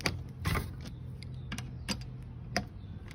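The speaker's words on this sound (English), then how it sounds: "Remove the two original equipment roof rack bolts." Roof rack bolts being removed from a 2010-2024 Toyota 4Runner: quiet, close ratcheting clicks and metallic creaks come in short, irregular bursts, with no talking.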